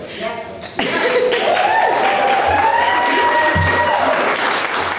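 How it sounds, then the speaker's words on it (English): An audience breaks into applause at a campaign talk. The clapping starts suddenly and keeps a steady, dense roar from a mid-sized crowd, with a few chuckles and murmurs mixed in. "you can't keep clapping because this is supposed to be 10 minutes"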